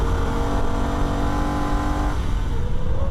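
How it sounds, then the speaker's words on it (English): A Holden VF Ute engine roars at high revs on the Nürburgring, with pitch rising then dropping sharply as it upshifts into third gear, loud and continuous. "Quick upshift into third gear as we make the approach to Metzgersfeld."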